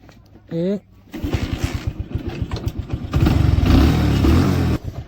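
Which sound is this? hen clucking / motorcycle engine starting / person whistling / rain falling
motorcycle engine starting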